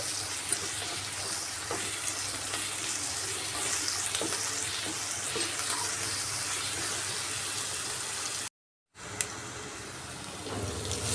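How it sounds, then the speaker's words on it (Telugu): Salted potato curry being mixed and cooked in a pan, with a steady bubbling sizzle and faint stirring scrapes running throughout, broken by a brief silent gap near the end before the cooking sound returns. "ఇప్పుడు రుచికి సరిపడా సాల్ట్ వేసుకుందామండి ఒకసారి మిక్స్ చేసుకొని బాగా మగ్గనిద్దామండి"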